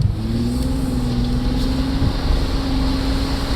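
A turbocharged 1992 GMC Typhoon truck accelerates hard, its engine note climbing steadily while wind and road noise roar along with it. The drone is loud and continuous from start to finish, with no voices heard.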